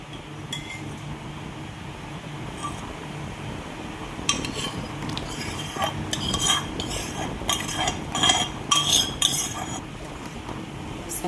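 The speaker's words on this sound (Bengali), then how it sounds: "বেসনটা দেওয়ার পরে এখন ভালো করে মিক্সড করে নিতে হবে।" Gram flour is stirred into lukewarm milk with a spoon that clinks and scrapes against the bowl. The stirring is quiet at first, then grows into a busy run of close, rapid clinks, and nobody speaks.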